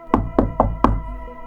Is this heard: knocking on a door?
yes